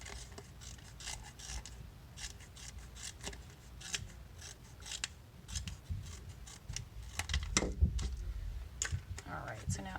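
Scissors snip the extra lip off a plastic bottle cap, a run of short, sharp clicking cuts at close range, growing a little louder toward the end.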